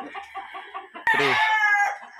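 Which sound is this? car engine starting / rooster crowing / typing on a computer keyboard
rooster crowing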